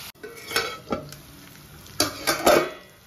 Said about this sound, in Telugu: ఇప్పుడు నీరంతా ఇంకిపోయి ఇలా బాగా ఫ్రై అవుతుంది